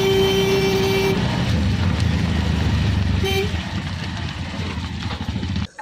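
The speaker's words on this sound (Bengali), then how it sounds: "এই সিএনজি দিয়ে আমরা চন্দ্রনাথ পাহাড়ের উদ্দেশ্যে যাবো।" A CNG auto-rickshaw carries passengers from a market in Sitakunda toward Chandranath hill, its engine rumbling steadily amid busy traffic, with horn toots near the start and again around the middle. No one speaks.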